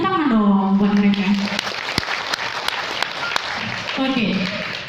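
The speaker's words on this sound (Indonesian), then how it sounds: "Tepuk tangan dong buat mereka." A small audience at a business marketing talk breaks into brief, scattered clapping between stretches of a speaker's voice.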